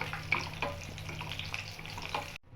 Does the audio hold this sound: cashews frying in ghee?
yes